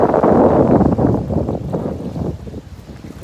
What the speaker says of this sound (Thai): มีลมค่อนข้างแรงนะครับ